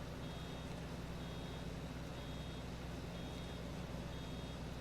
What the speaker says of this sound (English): as the baler's open and it's beeping